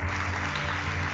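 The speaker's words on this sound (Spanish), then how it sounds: "denle un fuerte aplauso a todos los predicadores de las 2 y de las 8 de la noche" A church congregation claps for the preachers in steady, dense applause, loud and close throughout, with a low hum underneath.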